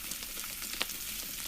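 Mustard, fenugreek and cumin seeds sizzle in hot oil for a mor kulambu, a steady close crackling hiss with one sharp pop partway through.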